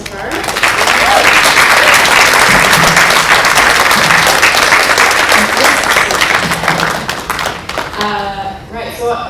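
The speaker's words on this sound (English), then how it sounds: "Let's give a big round of applause for all three of our speakers so far." Loud, sustained applause from a crowd at a Stop Alton Gas tour event in Halifax, dense clapping for the speakers that rolls on for about eight seconds, then gives way to a voice talking.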